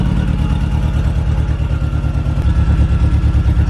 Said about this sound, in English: That exhaust leak is just wicked though